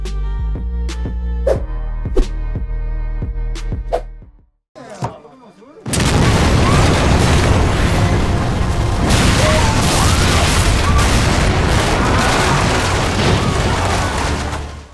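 Several sharp booming hits ring out, a brief lull follows, then a sustained loud rumbling blast roars on with crackling debris, an explosion in a city in a Japanese action film.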